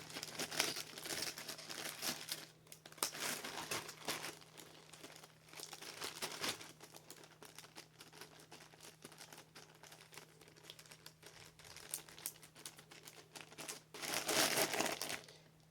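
A small plastic baggie from a homebirth kit crinkles in close, quiet bursts as it is handled, with pauses between the rustles and a louder crackle near the end.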